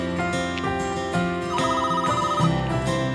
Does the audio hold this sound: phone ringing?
yes